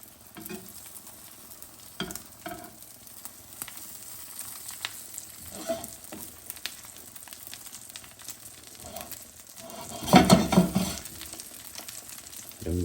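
Korean rolled omelette sizzling in a pan as it is folded, a soft continuous fry with scattered scrapes and taps, rising to a louder burst of sizzling and clatter near the end.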